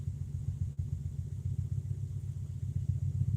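A car engine idles during a harmonic damper test, a steady low rumbling drone with an even pulsing beat, close and alone.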